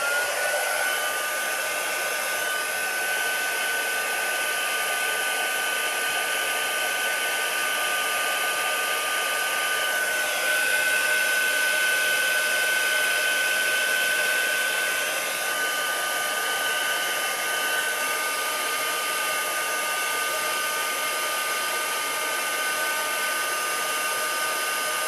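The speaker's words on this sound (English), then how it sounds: "And then heat up your embossing powder with your heat tool." A crafting heat tool blows steadily and loudly while melting embossing powder, its even fan whir and high whine continuing unbroken for the whole stretch with no talking.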